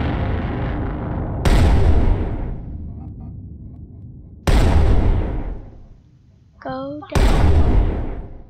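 Heavy gunfire shooting down an aircraft in the video game Brick Rigs: three loud, booming blasts several seconds apart, each with a long fading tail, with players talking excitedly between the shots.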